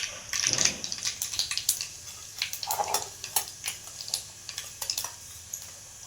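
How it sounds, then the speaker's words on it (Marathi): Mustard seeds and cumin hit hot oil in a pan, giving a faint, close crackle of scattered pops and short sizzles that come and go throughout. "आपण थोडीशी मोहरी टाकू त्यानंतर जिरं टाकू"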